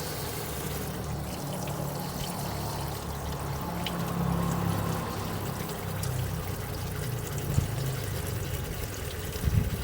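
Water pours and trickles steadily out of a Citroen C1 radiator during a flush, a continuous close splashing stream that swells slightly midway, with no talk over it.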